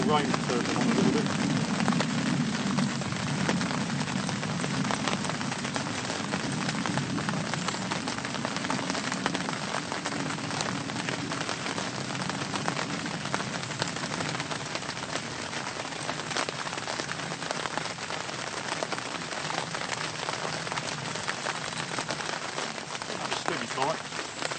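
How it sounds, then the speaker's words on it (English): Steady rain falls on a summer carp fishing bank, a constant dense patter and hiss over the whole stretch, with a voice talking over it in places. "The old rain turned on a little bit."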